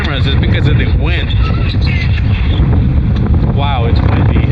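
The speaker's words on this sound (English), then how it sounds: "Wow, it's windy." Strong wind buffets the microphone on a beach at night in Bandon, Oregon, a loud continuous roar with gusty rumble that stays constant throughout, with faint talking underneath.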